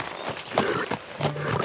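Clip-clopping hooves of a toy-play horse ride, a quick uneven series of hoofbeats with a faint whinny, close and fairly loud.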